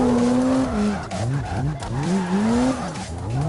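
In a drifting video game, a car slides sideways through a corner with loud, wavering tire squeal over a revving engine, the pitch sweeping up and down as the slide continues, close and prominent with no talk.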